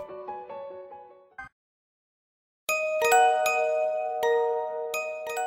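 Bright bell-like notification chimes, a few tinkling tones followed by a brief silence, then a louder sustained ringing chime with repeated struck accents, heard alone.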